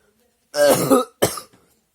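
One person coughs twice up close, a rough, throaty burst followed by a shorter hack, with silence before and after.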